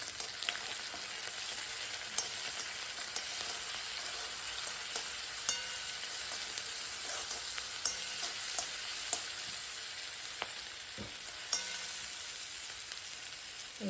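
Mint, ginger-garlic paste and whole cloves in coconut milk sautéing for masala sambar: a steady soft sizzle with faint stirring scrapes and occasional light clicks, continuous and fairly quiet, with no talking.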